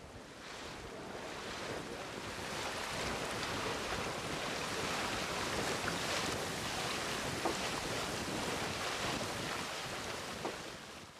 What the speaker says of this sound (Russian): Легкий ветерок раскачивает прекрасные судна.